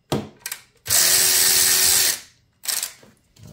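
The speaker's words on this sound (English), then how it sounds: "We have our 6mm Allen on the ratchet. Get on in there, I'll break it loose." A ratchet fitted with a 6mm Allen bit breaks a bolt loose during a heat shield and brake pedal install: a few short clicks, then about a second of loud, sustained grinding mechanical noise, followed by brief clicking.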